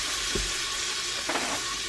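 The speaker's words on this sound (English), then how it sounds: "I'm just gonna stir that around in there with my little tongs" Garlic lemon chicken sizzles steadily in a hot pan, a continuous frying hiss with two brief scraping clatters as tongs stir the pieces around.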